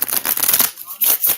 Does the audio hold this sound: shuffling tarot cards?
yes